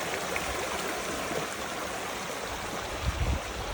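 Creek water flowing over a rock creek crossing, a steady broadband rush and trickle close by, with a brief splash or footstep near the end.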